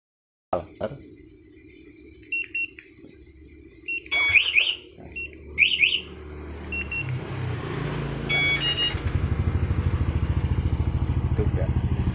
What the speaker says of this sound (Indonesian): Oke, saya pakai yang smart alarm.